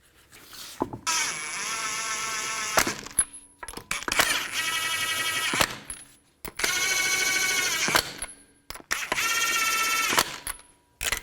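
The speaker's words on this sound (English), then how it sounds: "Put the wheel on. And get the lug nuts started." Lug nuts spun onto the wheel studs of a 2004-2008 Nissan Maxima by hand, in four sustained ratcheting, rattling bursts separated by short pauses.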